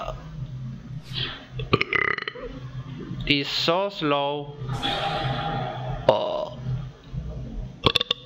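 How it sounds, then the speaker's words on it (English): A man lets out a long, loud, croaking burp mid-clip, with talk before and after it in a room. "Oh, sorry. I'm burping."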